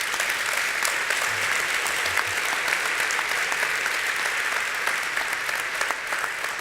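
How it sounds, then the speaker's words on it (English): Audience applause fills a ceremony hall for the 2017 Oslo Business for Peace Award, a dense, steady wash of many hands clapping at an even loudness for several seconds, with no speech over it. "I think that deserves applause"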